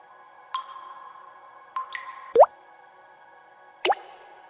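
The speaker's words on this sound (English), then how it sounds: "He actually tuned water drops." Tuned water-drop sounds in an electronic music track: four pitched plops and drips with resonant tails, spaced irregularly, one bending sharply upward in pitch, clear against a quiet sustained tone.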